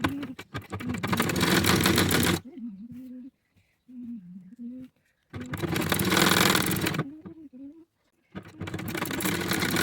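A sewing machine stitches the lining of a beach gown in three loud, fast, steady bursts, with someone talking during the pauses between runs.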